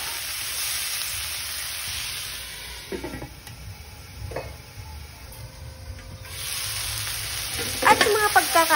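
Pork with tomatoes sautéing in a pan for pork binagoongan with coconut milk: a steady hiss of frying with a few scraping stir strokes, growing louder and crackly toward the end, no talking.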